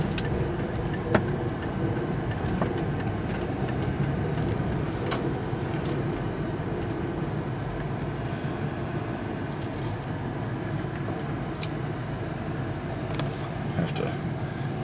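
A 1999 Jeep Grand Cherokee Limited 4x4 driving through a neighborhood, a steady interior engine and road rumble with occasional small knocks, no distinct revving.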